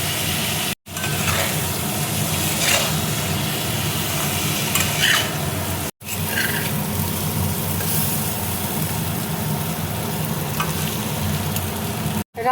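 Kochu (taro) with coriander leaf chutney fries in a pan, giving a dense, steady sizzle with a low rumble beneath. The sound is broken by brief cuts to silence.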